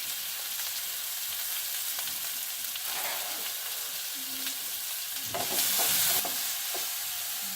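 Chopped onions with a little salt frying in a pan for a jackfruit seed curry, a continuous sizzle broken by scraping stirs and a louder burst of spatter near the end.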